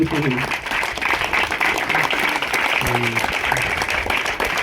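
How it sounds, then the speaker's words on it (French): Audience applause at a public gathering, a dense continuous patter of clapping heard under and alongside a loud voice on a microphone, with a few brief tonal sounds mixed in. "S'il vous plaît, applaudissez ces gens qui sont ici derrière nous."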